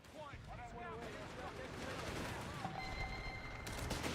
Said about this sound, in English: Some artillery flares going in.